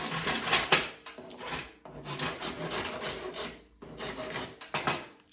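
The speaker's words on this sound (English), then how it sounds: "just rasp away" A rasp scrapes along a wooden Irish stick being shaped by hand, in long, loud, rough strokes with brief pauses between them, heard up close with no talk.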